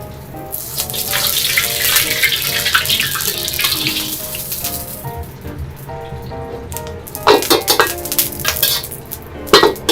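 A wok is heated to season it before making a spicy hot pot base, giving a steady, close hiss and sizzle with faint clinks, then a few louder clattering bursts near the end.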